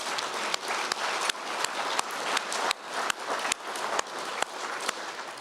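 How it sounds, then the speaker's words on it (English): An audience at a Make-A-Wish Idaho fundraising event breaks into steady, full applause that continues evenly for several seconds with no talking over it. "So please, let's give her a big round of applause."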